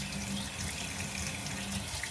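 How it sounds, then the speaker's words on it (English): Water poured through a Wagner Flexio paint sprayer makes a steady, even splashing and trickling rush, moderately quiet and continuous with no pauses. "So we are literally going to pour water down in that hole and watch it come out the other side."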